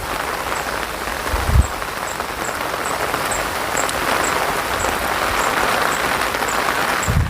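Heavy morning rain in Thirthahalli pours down in a dense, constant hiss, with a few low thumps and faint repeated chirps in the background.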